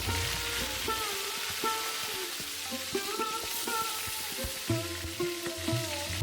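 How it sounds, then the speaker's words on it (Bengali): Whole brinjals fry in a large wok with a continuous sizzle, broken by sharp clatters and knocks of utensils against the pan throughout. "এখন এপাশ থেকে ওপাশ ওলট পালট করে একটু ভাজতে হবে যেন বেগুনটা হালকা হালকা একটু নরম হয়ে আসবে"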